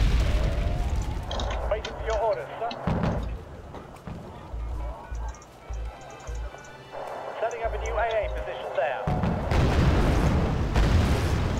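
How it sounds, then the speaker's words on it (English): Artillery explosions in a war video game thud and boom repeatedly in a loose, irregular rhythm, with someone talking over much of the barrage. "We'll bomb it with artillery."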